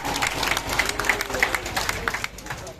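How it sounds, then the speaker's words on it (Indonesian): Applause from an audience at the opening of a children's achievement centre in Surabaya, a steady patter of many hands with voices mixed in, fairly quiet and even throughout. "Beri tepuk tangan yang meriah."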